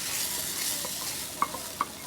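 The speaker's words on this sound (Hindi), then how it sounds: "हलीम का तड़का मैंने लगा दिया है।" Oil sizzles steadily as cumin and dried chilies are tempered for chicken haleem, a dense, even frying hiss throughout with a couple of sharp little pops near the end.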